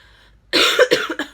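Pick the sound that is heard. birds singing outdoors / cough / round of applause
cough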